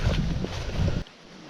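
Steady wind rushes and buffets the microphone beside a low river in the fall, loud and broad for about a second before dropping off abruptly to a quieter hiss.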